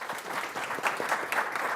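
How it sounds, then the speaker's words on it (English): Audience applause for a climate panel's speakers at a public event, steady clapping from a room full of people holding at moderate loudness throughout with brief swells, no voices over it. "Please join me in giving these panelists a round of applause."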